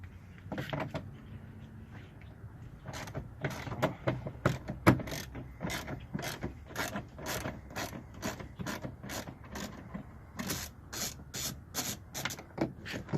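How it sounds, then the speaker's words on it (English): A ratchet with a long extension and 10 mm socket turns bolts while tow mirrors are fitted to a Chevy Silverado, giving a steady run of close, crisp pawl clicks in quick bursts with brief pauses, no voices. "you do want to ratchet with an extension"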